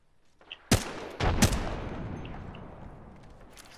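Video-game gunfire in Armed & Dangerous: two loud, sharp bursts of shots close together near the start, then a fading rumbling tail with a few faint pops.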